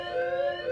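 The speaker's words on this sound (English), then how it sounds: "That sounds kind of like the alarm from Alien." A steady electronic alarm tone from the science-fiction film Arrival, a sustained harmonic drone held evenly for under a second with no talk over it.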